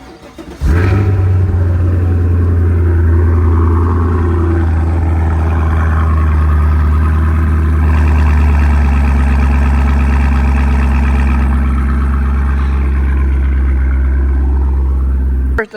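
A Cadillac CTS-V engine cranks and fires up, then settles into a loud, deep, steady idle rumble that holds for over fifteen seconds.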